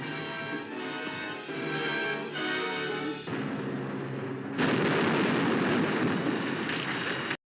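Rigged explosives go off in a Davy Crockett river-pirates film battle at Cave-In-Rock, a sustained roar of blasts and crackling debris that swells louder partway through and then cuts off abruptly.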